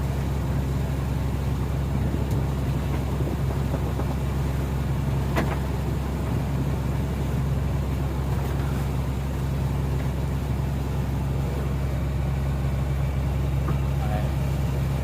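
Boat engines of motor jukung longboats and speedboats, including outboards rated 200 and 400 horsepower, pass on the Musi river: a steady low droning hum runs throughout, with a brief sharper burst midway and faint voices in the background.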